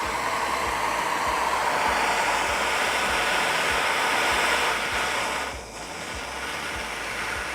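A heat gun blows steadily and loudly while heating solder for a cable connector, a continuous roaring rush of air that dips briefly near the end.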